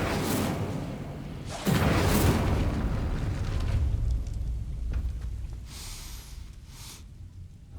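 The Incendio fire spell is cast in Hogwarts Legacy, giving fiery whooshing bursts with a deep boom that erupts, swells again, then trails off into quieter crackling rushes.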